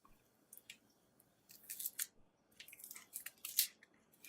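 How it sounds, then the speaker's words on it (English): An onion being peeled by hand gives quiet, close crinkling and tearing of dry papery skin in short irregular bursts, with no talking. "We need to peel the onion."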